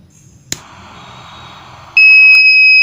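A homemade fire alarm, built without any sensors, goes off when heated: a single sharp knock and faint hiss give way to a loud, steady electronic buzzer tone that holds continuously to the end.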